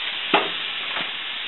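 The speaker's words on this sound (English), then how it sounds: "And I'm going to put the ground turkey in." Ground turkey cooking in a frying pan with garlic oil, giving a steady low sizzle throughout, with a couple of brief stirring scrapes or clatters standing out near the start and again about a second in.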